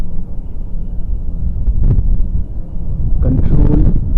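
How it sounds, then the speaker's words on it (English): Wind buffets a phone microphone outdoors, a loud, steady low rumble throughout, with brief noisy gusts and possible muffled voice sounds near the end. "So the wind is blowing opposite to me."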